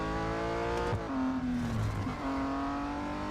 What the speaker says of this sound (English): A little bit of a skid there.